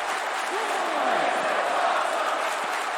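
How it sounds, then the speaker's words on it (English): Arena crowd in the WWE 2K wrestling game, a steady roar of cheering and applause sustained throughout, with a faint whooping tone rising and falling early on. "And this crowd loving every minute of it."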